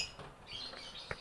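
Lovebirds in a simple cage give a few faint, scattered high chirps over a murky background, with a slightly sharper call near the end.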